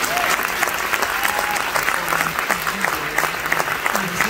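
Sustained audience applause at a film screening and Q&A with the cast and crew of a Three Musketeers film, a steady wash of many hands clapping throughout, with faint voices mixed in.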